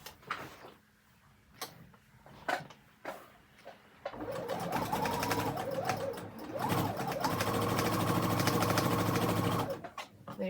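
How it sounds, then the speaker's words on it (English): A sewing machine stitches quarter-inch seams along the lines of a quilt block, starting after a few soft clicks and handling sounds and then running loud and steady for about six seconds before stopping. "we're going to sew on a 1/4 inch down each side of those lines"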